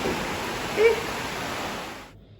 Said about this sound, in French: Est-ce que vous entendez la pluie, s'il vous plaît?